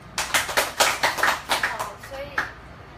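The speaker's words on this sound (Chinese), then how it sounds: "我们请大家拍拍手欢迎他" Audience clapping to welcome a speaker at a civic-tech talk, about ten distinct hand-clap bursts in a steady rhythm that thin out and fade toward the end, moderately close in a room with no voices on top.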